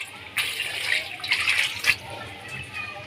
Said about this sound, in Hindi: अब छानने में इसको अच्छे तरीके से छान के और ठंडा पानी डालेंगे।